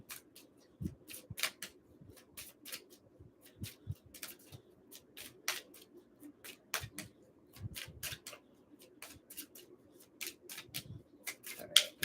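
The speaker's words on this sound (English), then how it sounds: "Let me get a good shuffle here for you" Soft, repeated riffling and slapping of tarot cards at close range, a steady run of quick crisp clicks over a quiet background hum.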